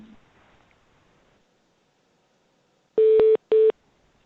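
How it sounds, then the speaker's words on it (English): Two loud, sharp electronic phone tones, one longer beep followed quickly by a shorter one, sound during an online board meeting after a near-silent stretch. "I think you're getting a phone call."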